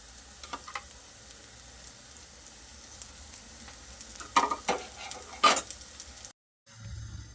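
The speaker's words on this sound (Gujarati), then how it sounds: "હવે આપણે એ જ રીતે બીજી બાજુ પણ હાંડવાને સરસ રીતે શેકાઈ જવા દઈએ. આજુબાજુથી થોડું તેલ ઉમેરી દઈશું." Rava handvo roasting in oil in a pan, a steady close sizzle with a few louder crackling bursts as oil is added around the edges, then a brief drop to silence before the frying noise returns.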